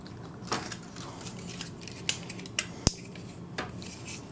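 Plastic parts of a Generation Toy GT-2 Tyrant action figure folding inward, producing a few scattered sharp clicks and snaps close up, with faint handling rustle between them and no talking.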